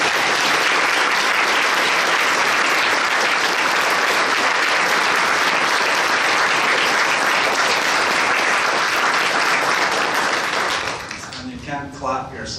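An audience at an evening event on Evansville in World War II applauds the veterans present with loud, sustained clapping for about eleven seconds before it fades into voices and scattered claps.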